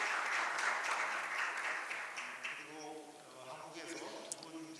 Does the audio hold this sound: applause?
yes